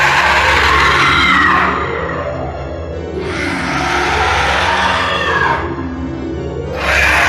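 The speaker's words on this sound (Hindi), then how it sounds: "ताबीज दिखाते ही चुड़ैल चीखने लगी।" A witch in a Hindi horror cartoon shrieks in long, harsh, loud swells, three rising waves of screaming filling the scene with a rumbling background underneath.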